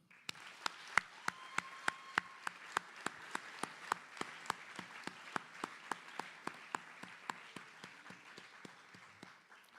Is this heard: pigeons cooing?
no